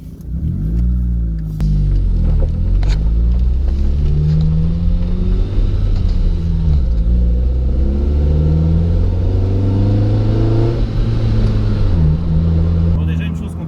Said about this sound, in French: Je passe mes vitesses en régime normal, sans accélérer, sans rien, et la voiture fait déjà du bruit.